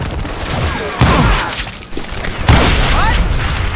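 Gunfire in the Western shooter Call of Juarez: Gunslinger, with two loud shot bursts about a second and a half apart amid shouting voices and a busy game mix.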